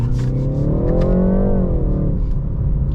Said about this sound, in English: really good downshifts with the paddle shifters